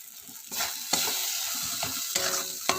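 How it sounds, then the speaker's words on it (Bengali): Soybean chunks and potatoes fry with spices in a pan for a vegetarian curry, giving a steady sizzle broken by several sharp scraping stirs of a spatula, close and moderately loud with no talking. "দিয়ে আমি মশলার সাথে একটু কষিয়ে নিলাম"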